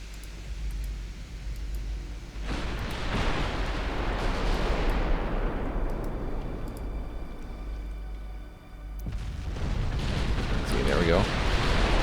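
Naval guns firing and shells striking ships in Ultimate Admiral Dreadnoughts, a dense, sustained roar of heavy booms and rumbling impacts that swells, dips briefly, then surges again, with a voice talking intermittently over the battle.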